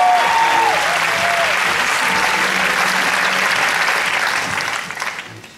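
An opening-ceremony crowd applauds for Manana Bapiashvili at the IC 2012 event, dense sustained clapping that stays level for several seconds before fading near the end, with a few faint voices and tones beneath.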